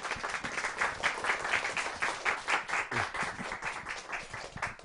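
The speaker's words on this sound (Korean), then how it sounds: "큰 박수로 맞아주세요." An audience at a youth talk concert claps steadily to welcome a stylist onto the stage, a dense, even roar of many hands that lasts throughout.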